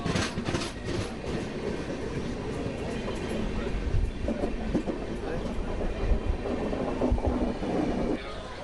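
An express train runs through Nayandahalli railway station with a steady rumble and rolling wheel clatter, close and continuous, with faint crowd noise mixed in.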